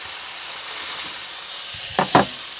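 Steak sizzling in a hot cast iron pan just after being turned, a steady bright hiss of frying fat, with a couple of louder spits and crackles near the end.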